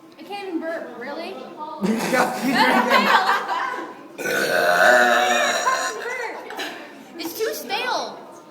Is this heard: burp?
yes